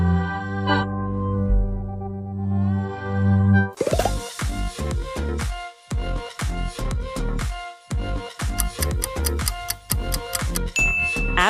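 BritBox streaming platform logo sound: sustained layered low tones swelling for nearly four seconds, then a steady sequence of sharp, bright ringing dings in a regular pulse, loud and close with no talking.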